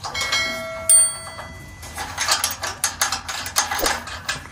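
A radiator valve tightened with an Allen key during a garage conversion, a series of small metallic ratcheting clicks and scrapes, close and fairly clear, with one sharp ring early on.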